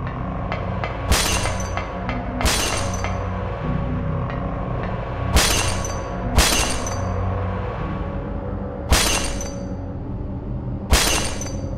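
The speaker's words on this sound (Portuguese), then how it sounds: "sons de vidros sendo quebrados, mas não há nenhum vidro na sala" Glass shatters in the video game Silent Hill 1, with six sharp, loud crashes at irregular intervals over a steady low humming drone, and no voices.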